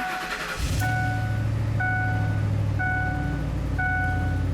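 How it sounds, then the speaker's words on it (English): A Ford F150 with camshaft sensor faults cranks and catches, then settles into a steady low idle rumble close by, while a regular electronic beep repeats about once per second over the engine. "So right there, as you can hear, the engine is running"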